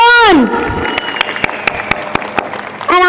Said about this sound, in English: So, a big, big round of applause for all of you.